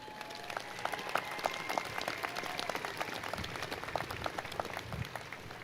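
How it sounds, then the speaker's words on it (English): A commencement crowd applauds graduates, producing a continuous wash of many hands clapping, moderately loud and steady throughout with no pauses. "Let's give these graduates a round of applause"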